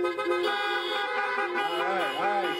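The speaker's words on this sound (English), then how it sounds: "Now let's all do your honk your horns" Car horns honk together in a parking lot during a drive-in church service, a sustained overlapping blare of several tones with wavering pitches toward the end.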